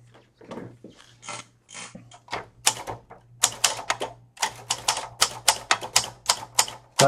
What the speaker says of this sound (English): as with all typewriters, there's an adjustment period where you adjust to the typewriter itself